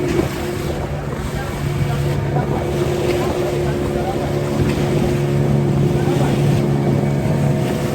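A boat motor drones steadily on the return trip from surfing off Lombok after sunset, with a constant low hum, wind and water rushing around it, loud and close throughout.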